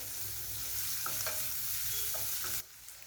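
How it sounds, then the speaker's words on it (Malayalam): Chopped garlic, ginger and onion sizzle steadily in a hot pan for tomato soup, with a few spoon scrapes stirring through the frying before the sizzle suddenly drops near the end. "നല്ലോണം ഒന്ന് വഴറ്റുക."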